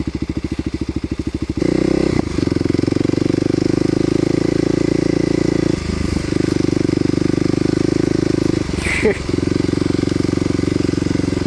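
A Kawasaki KLX250sf motorcycle rides slowly along a trail in an Indian reserve, its single-cylinder engine thumping fast at first, then droning steadily as the revs rise, with brief dips and a clattering bump near the end.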